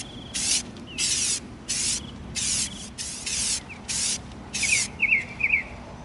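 Aerosol spray paint hisses outdoors at a spray stand onto an EVA foam prop grenade in about eight separate bursts of a second or so each, close and fairly loud, with birds chirping and insects buzzing faintly in the background between the sprays.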